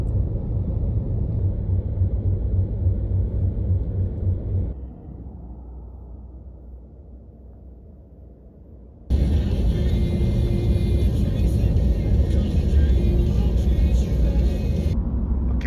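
A car drives along a road near Vernonia, with a steady engine and tyre rumble that drops quieter for a few seconds and then returns louder with added hiss.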